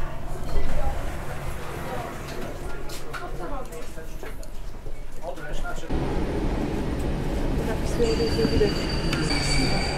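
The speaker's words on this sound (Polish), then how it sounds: "O, jedzie lokomotywa, bo ona pojechała teraz na drugą stronę i wraca pociąg w drugą stronę." A locomotive runs past at a railway station in Poland, a steady loud rumble of rail traffic with wheel and metallic clinking noise that swells midway and continues to the end, with people talking over it.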